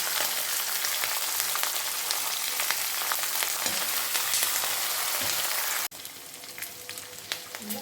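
Green chillies and cumin frying in oil for mango rice, a loud dense sizzle that drops abruptly to a quieter crackle with sporadic pops, no talk.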